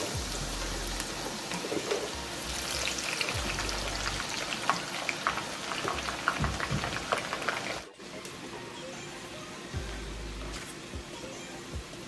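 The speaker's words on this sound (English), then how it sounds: "let's drop in some fries" Fries frying in hot oil produce a dense, crackling bubbling that patters like rain and holds steady for about twelve seconds, fairly quiet, with occasional faint handling knocks and no speech.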